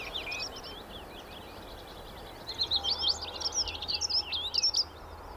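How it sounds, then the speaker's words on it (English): A male dunnock sings outdoors: faint scratchy chirps at first, then a brisk, warbling burst of high notes in the latter half, over soft background ambience. "This is a dunnock."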